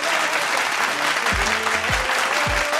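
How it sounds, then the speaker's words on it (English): An audience bursts into steady, dense applause on a music talk show, with a few low thumps breaking through near the middle and end. "Round of applause to him."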